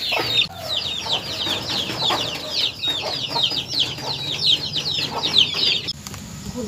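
Chickens cluck steadily in a garden, with a rapid run of chirps and clucks that keeps going without a break from start to finish. The birds sound close and fairly loud.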